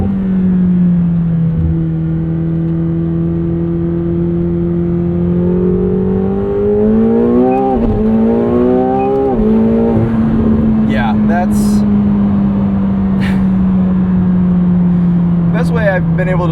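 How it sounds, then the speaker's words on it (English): A 2025 McLaren 750S with a 740 hp twin-turbo V8 accelerating hard, a loud sustained engine drone rising through gear changes around the middle, then settling into a steady cruise with talk over it. "this car accelerates in a way that your mind simply cannot comprehend"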